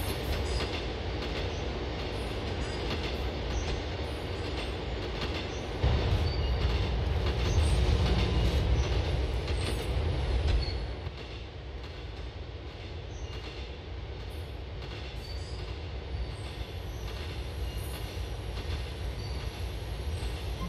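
An LTA subway train in GTA IV runs steadily, with a continuous rumble of rail wheels and faint squeals and clatter, a louder rolling surge midway, then a quieter sustained ride.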